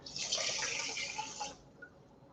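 Tap water runs into a pot for plain white rice, a bright close splashing rush for about a second and a half, then cut off, leaving a faint drip.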